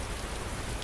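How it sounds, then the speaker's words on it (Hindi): Steady rain falls outdoors in a dense, continuous hiss with pattering drops, close and fairly loud, and no voices are heard. "अबे यार ये बारिश को आ जाती थोड़ी थोड़ी देर में"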